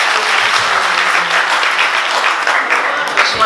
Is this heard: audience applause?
yes